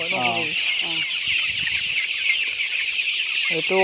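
Local chickens cluck in a poultry farm shed, with close, repeated clucks over a constant high hum, and a voice speaks briefly under them.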